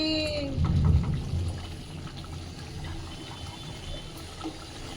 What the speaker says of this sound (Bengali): কি বৃষ্টি হচ্ছে বাবা